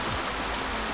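Steady rain from the video game After Class pours down in a dense, even hiss, close and constant for a short moment with no voices.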